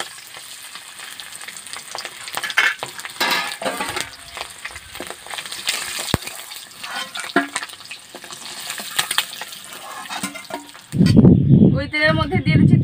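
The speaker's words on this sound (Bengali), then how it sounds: "ওই তেলের মধ্যে দিয়ে দিচ্ছি তেজপাতা, কাঁচা লঙ্কা, দারুচিনি," Bay leaf, green chilli and cinnamon frying in hot oil for a village-style egg korma, a crackling sizzle with scattered spatters and stirring clicks, followed by someone talking near the end.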